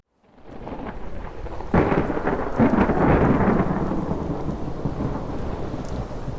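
Thunderstorm with heavy rain lashing a remote island lighthouse in a winter storm, a steady roar of downpour broken by a sudden loud thunderclap that rumbles on, no voices.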